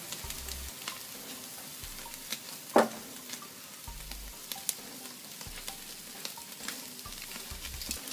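Buffalo chicken pieces sizzling on an outdoor grill, a steady low crackle and hiss throughout, with one brief sharp clink partway through and no talk.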